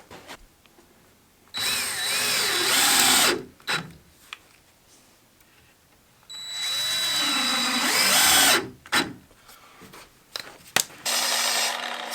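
Power drill driving screws into plywood sheets fixed to the ends and sides of a wooden base for an off-grid cabin rain water collection system, with two long loud whirring bursts separated by short knocks and pauses, no talking.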